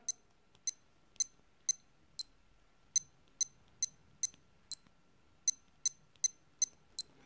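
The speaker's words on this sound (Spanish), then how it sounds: "Es el típico bip de Casio que es inconfundible." A series of short, sharp electronic beeps from a Casio AE1200 digital watch button, about fourteen in an uneven rhythm, close and clear with faint background hiss.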